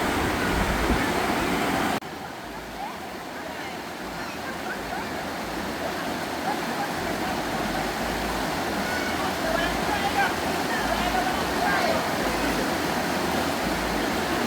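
Swollen river water rushes at Cherry Hill Falls during a riverside cookout, a continuous loud broadband roar that never lets up, with faint voices mixed into the steady torrent.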